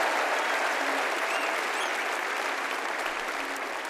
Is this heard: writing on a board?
no